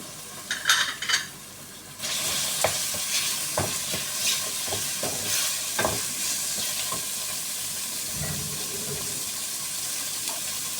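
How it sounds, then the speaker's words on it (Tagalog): Small pieces of chopped chicken breast hit a hot pan and break into a loud, steady sizzle, with close stirring scrapes and clatter over the frying; the start is quieter before the food goes in. "isunod na natin ito yung breast chicken na ginayat ko ng maliliit"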